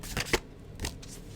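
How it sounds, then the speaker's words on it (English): Tarot cards are shuffled off camera, giving a few short papery riffles and taps close to the microphone. "I know I'm shuffling off camera, but you can hear me, right?"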